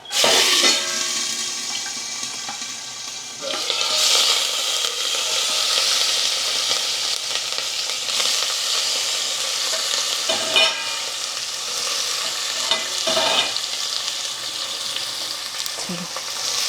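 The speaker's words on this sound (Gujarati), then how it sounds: "રાઈ એકદમ બરી ગઈ છે તો આપણે નાખી દઈએ થોડી હિંગ અને મેં થોડોક મીઠો લીમડો લીધો છે સંભારાને વઘારવા માટે અને લીલા મરચાં" Mustard seeds, asafoetida, curry leaves and green chilies sizzle loudly and steadily in hot oil as a tempering for a sambharo relish, with occasional stirring clatters.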